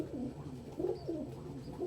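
A young imprinted pet pigeon named Angel coos close by, a few soft, low rolling phrases repeating over steady room noise.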